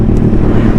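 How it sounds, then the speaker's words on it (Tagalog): Yamaha Sniper 155 motorcycle engine running while riding in high gear, a loud, steady, close engine drone with wind rush over it. "Ang ingay ng motor ko."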